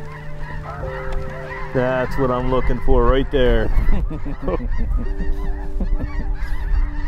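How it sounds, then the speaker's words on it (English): A flock of snow geese honks loudly in bursts nearby during a hunt, a voice speaking over the calls. "When the geese start coming in and they start giggling, just laughing."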